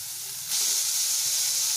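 Chopped onion dropped into hot oil for a soya cutlet, a sudden bright hiss that jumps up partway through and holds as a steady close sizzle, with no voices.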